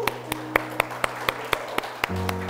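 Congregation clapping hands during a church Sunday service, about ten slow, evenly spaced claps in unison, moderately loud over a sustained organ or keyboard tone.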